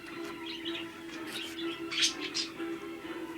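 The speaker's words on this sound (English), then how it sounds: "Thanks for your input, Budgie Wudgies. Good singing, good singing" Pet budgies chirp and warble softly, light scattered tweets over a steady low hum in a quiet indoor room.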